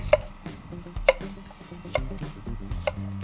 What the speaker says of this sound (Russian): Разрезаем перец, достаем отсюда сердцевину и нарезаем приблизительно как на лечо